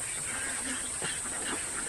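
White Pekin ducks play on a pond, giving a few faint, scattered quacks over a constant outdoor hiss and a thin high steady whine.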